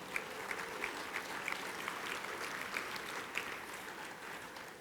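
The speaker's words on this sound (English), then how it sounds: "So give yourselves a big round of applause." Audience at a buildings energy-efficiency summit keynote applauds steadily, a broad continuous clapping with occasional sharper individual claps and no talk over it.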